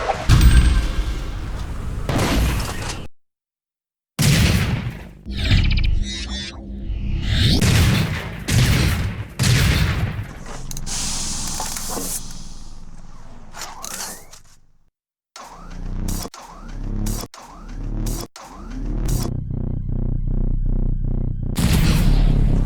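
Opposing team's shotgun in the first Section 8 game, fired in a series of loud, separate blasts with short pauses between them, each heavy boom trailing off before the next shot.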